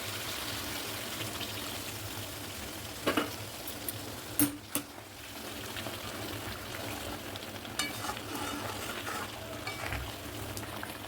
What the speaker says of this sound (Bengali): এবার এটা আমি একটু দুধ অ্যাড করে দেবো